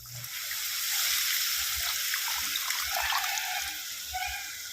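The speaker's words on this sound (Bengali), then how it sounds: "এবার আমি দিয়ে দেবো জল।" Water pours steadily into a pan of simmering fish curry, a continuous bright splashing trickle, fairly soft and close, with faint low knocks underneath.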